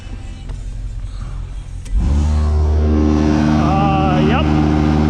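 The vibrator on a snow salt spreader switches on partway through, jumping to a loud, steady mechanical drone and hum that continues to the end.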